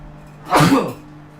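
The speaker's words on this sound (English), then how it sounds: "I want to sneeze." A single loud sneeze bursts out close by, short and sharp, with quiet room tone before and after.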